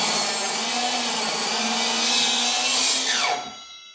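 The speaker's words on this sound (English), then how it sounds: "this is my first time cutting 2x material with this saw" A Milwaukee 7 1/4 inch mitre saw cuts through 2x lumber. The blade gives a loud, steady high whine for about three seconds, then winds down as the motor stops, close up and with no voices.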